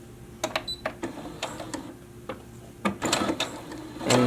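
A Brother SE600 embroidery sewing machine makes a series of quick mechanical clicks and taps as it stitches in reverse, irregular at first and then building into a busier whir, fairly close and quiet.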